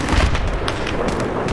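Mortar shells strike a vehicle in a video game with a loud, heavy rumbling blast that fills the moment and leaves a dense, booming roar.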